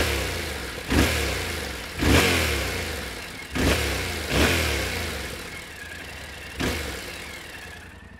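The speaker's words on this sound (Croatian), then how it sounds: "Sad indukcijeni zvuk motora," A 2024 Yamaha Tenere 700 Explore, heard close to the engine's intake side, revs in five or six quick throttle blips spaced about a second apart, each swelling briefly and then dropping back to a steady idle.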